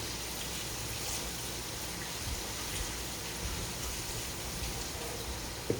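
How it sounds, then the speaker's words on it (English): Water runs steadily from a tap in an even, hissing gush as someone washes their hands, faint and continuous, with no voices. "You guys hear me running water? It's because I'm cleaning my hands."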